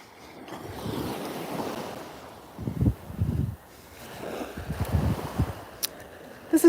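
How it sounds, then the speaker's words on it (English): Ocean surf washing onto a beach at the end of the day, a steady broad wash with several louder breaking swells, wind buffeting the microphone now and then. "Just listening to the sound of the ocean."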